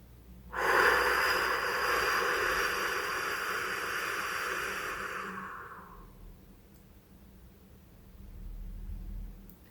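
One long, deep breath drawn close to the microphone during an affirmation exercise for social anxiety: a steady rush of air lasting about five seconds, then fading into near silence.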